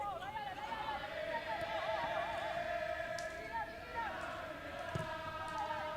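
Malaysian football crowd singing a familiar tune in a stadium during a Cambodia vs Malaysia AFF Suzuki Cup match, a distant, sustained chant beneath a commentator talking.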